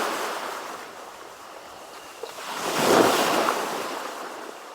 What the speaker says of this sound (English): Waves. Ocean waves.